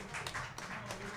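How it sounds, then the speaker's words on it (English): Brief applause from a concert audience for a vocalist before a jazz ensemble song, with a few sharper claps standing out against a low background hum. "Give her a round of applause"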